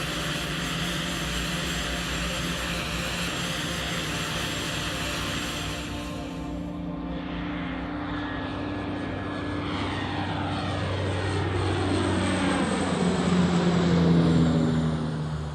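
Research aircraft carrying atmospheric, aerosol and cloud instruments cruises with a steady, loud propeller-engine drone, constant broadband roar with a tonal hum that swells slightly toward the end, no voices.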